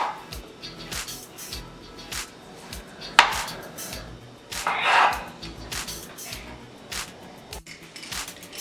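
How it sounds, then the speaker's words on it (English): A knife cuts cherry tomatoes in half on a board, giving a few sharp, close chopping taps spread irregularly over soft background noise. "Then we cut our cherry tomatoes in half."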